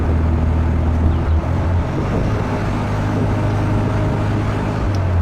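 A 1974 MG MGB roadster, chrome-bumper British Racing Green car, drives along with a steady, loud engine drone and road noise throughout, no talk.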